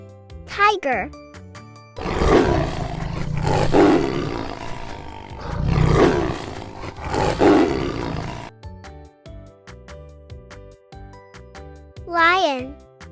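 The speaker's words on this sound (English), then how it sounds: "tiger." A tiger lets out two loud, deep roars a few seconds apart, each swelling and fading, over a soft music bed with synth swooshes at the start and end.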